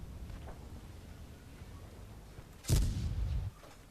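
A single loud cannon-like tank gun blast in World of Tanks, with a booming low tail lasting under a second, over quiet background hum.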